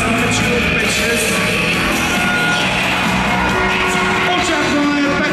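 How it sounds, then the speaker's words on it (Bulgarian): Crowd at a ski jump competition cheering and applauding as a jumper prepares, a steady dense wash of clapping, whoops and shouts that holds loud and continuous throughout. "Аплодисменти."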